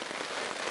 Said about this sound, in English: Even if it is raining like this, I'm just gonna pack up and head to my car.